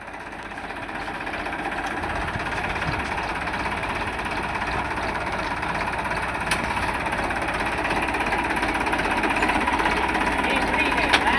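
A tractor engine labours up a steep slope with a loud, constant, rough mechanical drone and knocking vibration that holds steady and near throughout.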